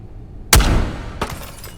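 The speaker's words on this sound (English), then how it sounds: "My unsuspecting victim for the flare gun." A flare gun fires in the survival shooter Ghosts of Tabor, a single sharp, loud report with a bright crack that rings out, followed about a second later by a fainter secondary pop.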